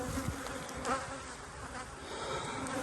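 Honey bees buzz steadily around a row of hives fitted with ten-frame deep brood boxes, a dense, continuous hum of many insects close by with no voices.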